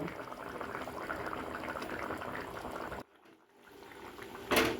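A pot of bhetki fish curry with potatoes bubbles at a steady boil for about three seconds, then goes quiet briefly before a short clatter near the end.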